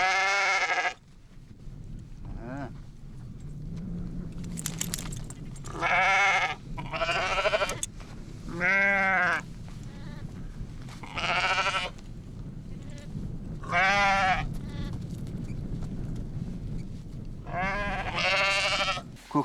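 Repeated loud bleats from sheep and a newborn lamb on open pasture, about eight calls spaced a second or two apart over a low background hum, close to the listener.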